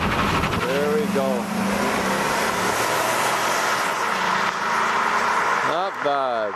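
A truck engine runs steadily while being driven, a broad continuous drone under frequent talk from people in the cab, with a brief dip in the middle.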